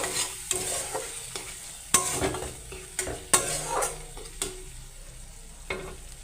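Spices, tomatoes and salt being stir-fried in a pan for an egg curry, with a steady close sizzle broken by several sharp scrapes and clacks of a spatula against the pan.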